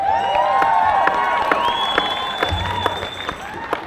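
Crowd applause and cheering at a March for Science rally in Grand Rapids, Michigan, a steady wash of clapping with scattered whoops and shouts, loud and continuous throughout.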